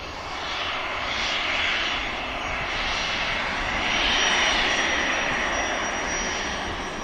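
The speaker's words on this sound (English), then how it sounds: "FlexJet's going to be taking an intersection departure" A FlexJet business jet makes an intersection departure at Manchester Airport, its engine roar a steady broadband rumble and whine that swells slightly toward the middle, fairly close and alone without talk.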